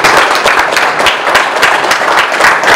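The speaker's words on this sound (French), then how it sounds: "Et je pense qu'on peut vous applaudir bien fort." Loud, close applause from a small audience at a municipal medal ceremony honoring a former mayor and deputies in Saint-Guyomard, with distinct individual claps in brisk, uneven rhythm.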